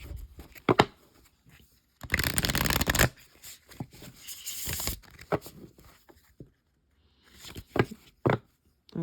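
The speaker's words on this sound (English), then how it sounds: "I think a lot of what takes my videos so long is the shuffling" Tarot cards being shuffled by hand, a run of soft riffling bursts with one long, loud dense riffle in the middle and shorter flicks and taps around it, close and alone.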